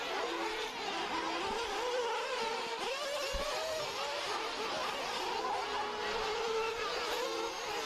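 Several 1/8-scale nitro RC cars race around a dirt track, with high, buzzing engine whines that rise and fall as they rev and pass. The sound is continuous and moderately distant, with a faint commentator voice underneath.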